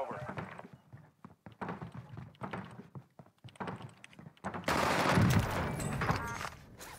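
Gun firing in a multiplayer shooter video game: repeated short bursts of shots with brief gaps, then a louder sustained stretch of rapid fire near the end, with players talking over it.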